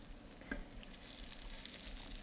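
Tofu dropped into hot oil with curry spices, giving a steady, close frying sizzle with a brief sharper burst of spatter near the start, no talking.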